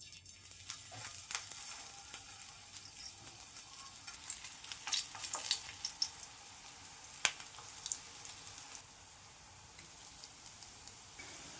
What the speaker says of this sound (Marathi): चला आता तव्यावर भाजून घेना